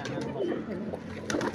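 Fighter pigeons coo softly amid a busy rooftop background, with faint murmuring and occasional flutters.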